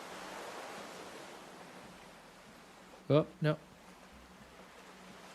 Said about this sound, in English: I like the sound of the ocean.